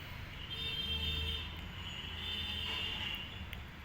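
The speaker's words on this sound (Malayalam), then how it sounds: "ഇതാണ് അയോധ്യ റെയിൽവേ സ്റ്റേഷൻ." A train at Ayodhya Junction railway station produces a low rumble with faint high wheel squeal, heard at a moderate distance over quiet ambient station noise.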